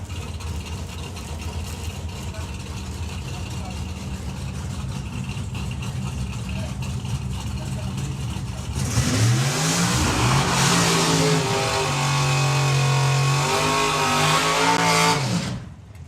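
A Mystic Dragster idles under a rough background rumble at a Summer Nationals drag race, then erupts partway through into a loud, climbing rev that holds strong for several seconds before cutting out abruptly.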